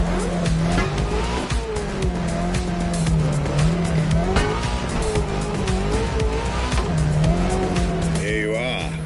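A car in The Crew Motorfest, heading through Maui to a new Ferrari museum, gives a loud, steady engine drone with rising and falling revs and brief tire squeal, and a voice talks over it.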